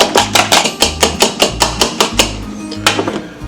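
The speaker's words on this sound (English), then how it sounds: "In the bowl, you need 1 egg white. And mix it up" Egg white is whisked by hand in a bowl until fluffy: quick rhythmic taps of the whisk against the bowl, close and fairly loud, in steady bursts with no talking.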